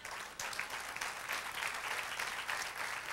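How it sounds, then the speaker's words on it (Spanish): A church congregation claps together during a sermon, a brief burst of applause that starts abruptly and continues as a steady, moderately distant patter. "Dale aplauso al Señor."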